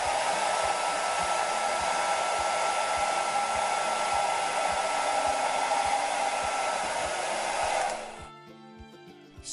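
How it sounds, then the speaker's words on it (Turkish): A hair dryer blows steadily and loudly at close range, drying a cleaned gas stove igniter, then shuts off near the end, leaving quiet clicks and faint room noise. "şöyle bir fön makinesi yardımıyla güzelce kurutun"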